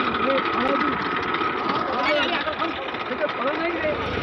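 Tractor engine running steadily in a field during mung bean sowing, a continuous low drone with crowd chatter and voices of people gathered around it.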